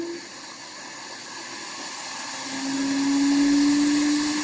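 Compressed air blower hissing steadily as it blows dust off a circuit board during electronics repair, rising in strength partway through and accompanied by a steady whine.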